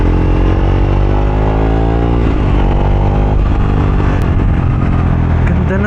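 A Triumph Speed 400 motorcycle fitted with a Muff City slip-on exhaust revs loudly and continuously at high RPM, its deep, dense engine note dipping briefly before climbing again.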